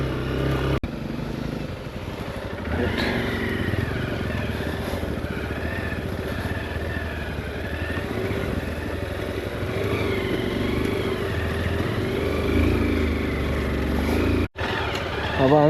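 A motorcycle climbs a rough, rutted mountain road toward Langtang National Park in Nepal, its engine droning loud and close throughout with wavering revs and pitch shifts, wind rushing over the mic, and a brief dropout near the end.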